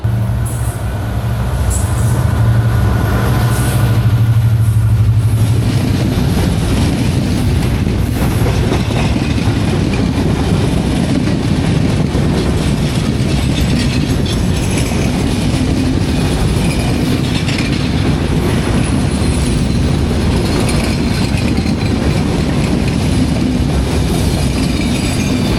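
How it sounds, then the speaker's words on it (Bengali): Broad-gauge Chilahati Express with a long rake of coaches rolls past loudly, a heavy sustained roar of wheels and clattering carriages that swells after an initial low hum and stays dense throughout. "ওইদিকে দেখা যাচ্ছে একটা ব্রড গেজের বিশাল কোচ নিয়ে, বহর নিয়ে আসছে কোনো একটা ট্রেন"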